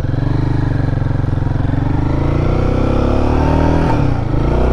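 A 2024 Royal Enfield Guerrilla 450 motorcycle cruises on a highway in second gear, its engine thrumming loud and steady close to the rider, with a slight rise in revs near the end.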